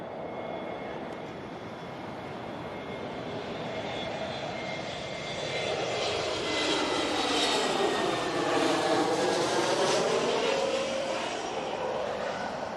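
An airliner engine roars at London Heathrow Airport, a steady broad jet rumble that swells louder in the second half as the aircraft passes close, with no talking.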